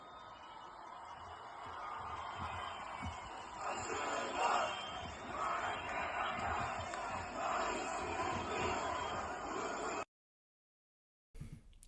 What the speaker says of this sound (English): This is just to show the level of the crowd in Istanbul.